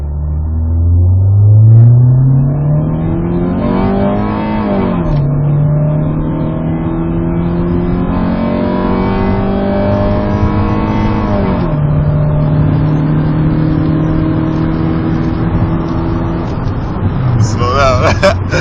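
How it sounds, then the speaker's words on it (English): A car accelerates hard, its engine pitch climbing steeply and dropping at two gear shifts before climbing again, loud and close throughout. "I'm gonna accelerate all the way."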